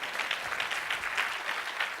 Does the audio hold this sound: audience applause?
yes